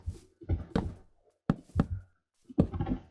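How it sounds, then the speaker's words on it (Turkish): Knocking on a door, heard as a few sharp knocks spread across a few seconds, fairly close and loud, with no talking over them. "Sürekli kapı çalıyor"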